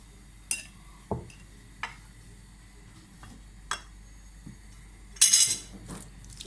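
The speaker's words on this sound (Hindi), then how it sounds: "ये मसाला मैं मिला रही हूँ" A spoon stirring and clinking against a bowl while spice masala with yellow and red food colour is mixed for tandoori samosas and rolls; a handful of sharp, separate clinks and scrapes sound nearby over quiet background.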